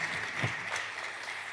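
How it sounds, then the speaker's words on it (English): A brief round of applause for young performers at a Christmas show, moderately faint and steady, a soft wash of clapping without speech. "Let's give them another round of applause."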